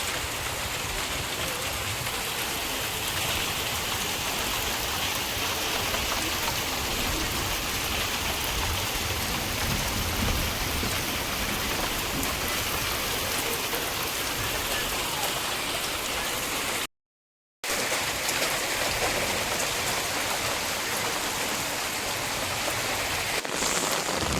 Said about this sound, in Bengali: এদিকে আবার বৃষ্টি এসেছে দেখুন।